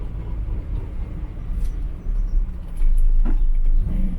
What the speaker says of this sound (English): Can hear a bit of diff noise.